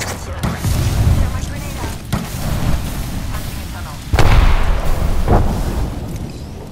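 A frag grenade detonates in the Apex Legends video game, a loud close boom with heavy rumble amid repeated booming gunfire and blasts, with a voice speaking briefly.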